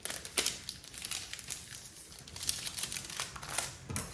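Baking paper being folded and creased to line a cake tin crinkles close up in short, irregular rustles and sharp crackles, with no talking.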